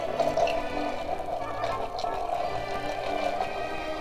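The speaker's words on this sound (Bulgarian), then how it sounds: "Разбъркваме шипките." Rosehips are stirred around in a glass jar of water, giving a soft, continuous sloshing and swirling with faint clinks, steady and close throughout.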